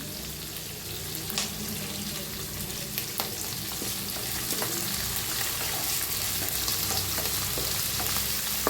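Onions frying over medium heat in a pan for raw mango rice, a steady close sizzle dotted with light stirring clicks and scrapes, no talking.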